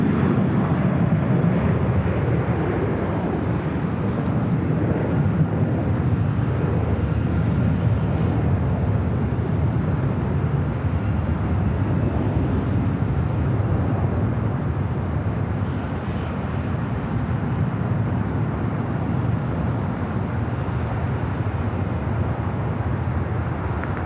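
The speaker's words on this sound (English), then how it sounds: "We have a takeoff happening" An airliner taking off from runway 25 right at Los Angeles International Airport, a broad sustained jet roar heard from some distance that holds steady and eases slightly partway through.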